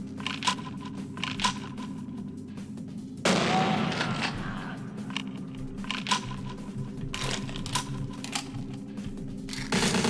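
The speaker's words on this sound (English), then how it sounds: "Where's the guy shooting at me?" An enemy's gunfire in Vampire the Masquerade - Bloodlines cracks out in scattered shots, with a dense burst of fire midway and more intermittent shots over game background noise.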